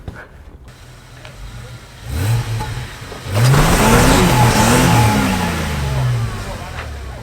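A 4x4 off-road vehicle revs hard while climbing a steep step at the Wheeny Creek off-road track, its engine note rising sharply from a low idle into a loud, strained roar that holds, with voices faintly underneath.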